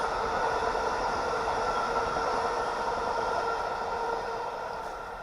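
A New Haven Railroad train rolls past outdoors with a steady, roaring rush of wheels and cars that holds loud throughout and begins to ease off near the end.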